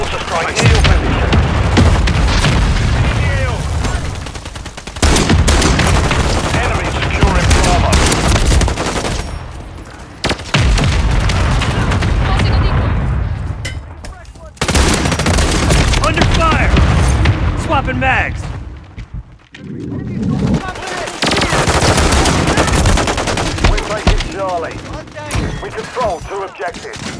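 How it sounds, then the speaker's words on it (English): A mortar strike and gunfire in Call of Duty MW3 multiplayer make loud, continuous booms and rattling shots, with dense battle noise that rises and falls. Voices call out over the fighting. "Hostile mortar strike near your position"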